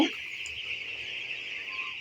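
Many fifteen-day-old broiler chicks chirp together in a constant high-pitched chorus, steady and moderately loud, with no individual calls standing out.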